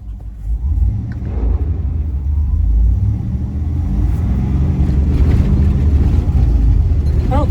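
An LS-swapped car with a 6-speed manual pulls away in first gear on an unpaved road, its engine a loud, steady low rumble that builds gently as it accelerates, with no talking.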